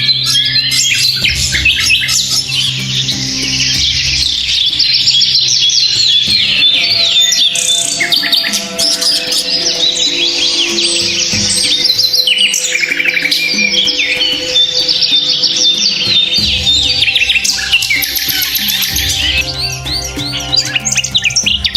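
Parrots call loudly and continuously, with shrill chirps and squawks overlapping in a dense, close chorus that carries on without a break.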